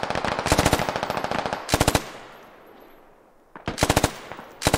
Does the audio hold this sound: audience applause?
no